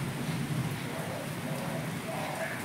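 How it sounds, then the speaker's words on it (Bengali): Heavy rain pours down over fields near a railway line during a thunderstorm, a dense, steady hiss of drops close by without any break. "এতটা বৃষ্টি হচ্ছে।"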